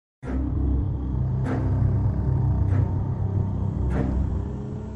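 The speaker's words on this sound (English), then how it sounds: "After ending his call with Malak, Medhat's car was approaching the storm, which was at its peak." A storm at its peak rumbles as a car approaches it, a loud, continuous low roar with gusting swells roughly every second or so, an audio-drama sound effect with no speech over it.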